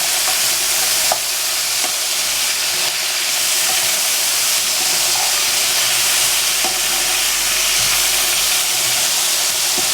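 Steady, loud sizzling and frying continues throughout as a spice mixture of mustard, fenugreek and cumin seeds is sautéed with pumpkin, salt, turmeric and green chili, with occasional faint stirring clicks.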